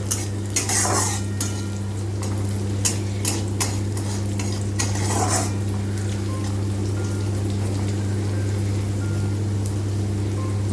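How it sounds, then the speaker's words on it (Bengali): Pistachios, cashews and raisins being fried in a pan, with a utensil scraping and clinking against the metal in short bursts over a steady low hum and a faint background sizzle. "পেস্তা ছিল কাজু কিশমিশ এগুলো সমস্ত সব দিয়ে এবার এটাকেও হচ্ছে আমি একটুখানি ভেজে নেব"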